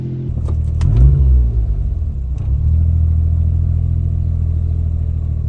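A Suzuki Alto Works engine idles unevenly with a surge, a loud low rumble that swells around the first second, dips, then settles into a steady drone, heard close with no talking.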